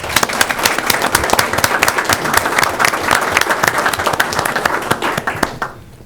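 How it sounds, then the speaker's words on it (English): An audience at a regular meeting applauding, dense steady clapping from many hands that fades out abruptly near the end. "I think you deserve a round of applause"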